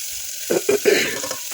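Raw chicken sautéing in a pan for chicken dum biryani, cooked until the meat changes colour: a strong, close hiss and sizzle with a few quick stirring bursts and no voices.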